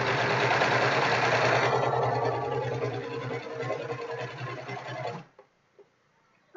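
A serger sewing machine runs a test stitch, buzzing loudly at a fast steady rhythm for about five seconds before stopping, followed by a few faint clicks.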